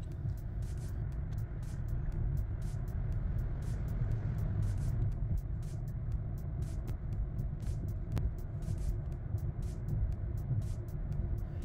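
Inside a Kia EV6 electric car cruising at highway speed, a constant low road and tire rumble drones with no engine note. Faint regular ticks sit above the hum.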